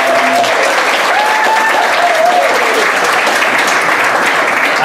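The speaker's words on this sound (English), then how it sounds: "let's give Matthew a round of applause" Audience applause after a talk by a governor in Anniston, Alabama: dense, loud, continuous clapping from a room full of people, sustained for several seconds with a few faint voices mixed in.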